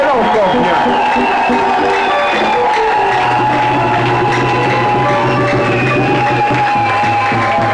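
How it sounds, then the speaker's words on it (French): A church congregation at a Sunday service cheers and acclaims, a dense crowd roar with scattered shouts and a sustained hum underneath, steady and fairly loud throughout. "J'aimerais qu'on acclame le Seigneur Jésus."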